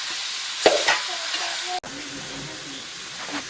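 Chunks of ash gourd and potato tipped into chicken cooking in a pan for a wedding-eve chicken curry, then stirred; a steady sizzle with scraping and clatter, a sharp bump midway, no talk.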